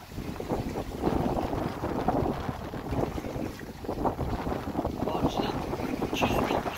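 Strong wind on a sailboat at sea in the Red Sea roars and buffets the microphone in steady gusts, mixed with rushing water and hull noise, loud and continuous.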